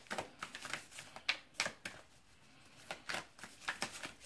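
Tarot cards are shuffled in quick, crisp riffling flicks and taps, close and fairly quiet, coming in uneven clusters with a short lull midway.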